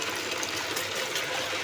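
Water gushes steadily from a hand pump tap while vessels are filled, a continuous close, fairly loud rushing stream with no talk over it.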